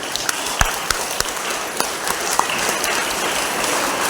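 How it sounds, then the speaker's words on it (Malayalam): An audience at a school's kindergarten opening day claps to welcome the children, a steady patter of applause with a few sharper individual claps standing out. "നല്ലൊരു കയ്യടിയോടെ നമുക്കൊരു വരവേൽപ്പ് നൽകാം."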